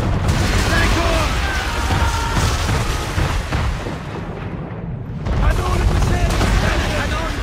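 Warship cannons firing in the Assassin's Creed 3 video game, a dense, loud barrage of booms and bursts rumbling almost continuously, with a brief lull near the middle before the firing swells again.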